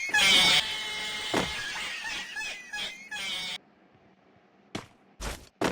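A cat meows loudly and close at the start, followed by a few more strained calls and scattered sharp noises, then near silence broken by brief bursts.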